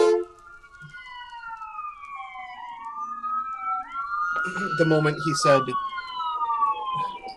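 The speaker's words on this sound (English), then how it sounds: "sorry about the sirens" Police sirens wailing outside, several rising and falling tones sweeping and overlapping at a moderate distance, with a person talking briefly over them partway through.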